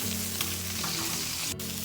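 A ribeye steak with butter, garlic and a sprig of rosemary sizzling in a pan, a continuous loud close hiss with a steady hum beneath and a brief sharp tap near the end.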